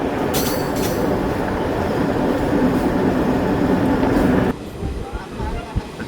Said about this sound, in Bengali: নিউ মাল জংশন থেকে আমাদের ট্রেন রিভার্স নিয়ে আবার বেরিয়ে চলেছে।